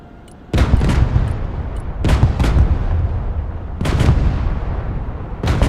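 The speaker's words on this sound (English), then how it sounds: "M1 Abrams warmed up and ready to go. Gunner, engage target." M1 Abrams tank main gun fires in the Broken Arrow video game, four loud booming shots at uneven intervals, each with a long rumbling decay that carries into the next, with the last shot landing at the very end.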